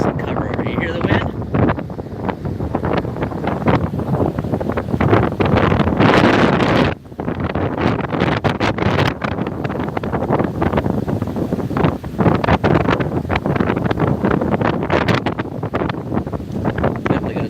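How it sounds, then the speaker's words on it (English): Strong, gusty wind roars during a severe thunderstorm in Tampa Bay, battering the microphone in loud, uneven blasts that ease briefly before surging again. "You hear the wind?"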